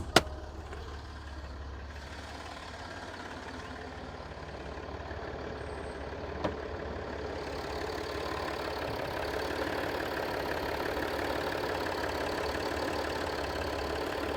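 A Land Rover Discovery 4 3.0 TDV6 diesel V6 engine idles, rumbling evenly with a low, continuous drone, growing slightly fuller over time, with a faint click near the start and another midway.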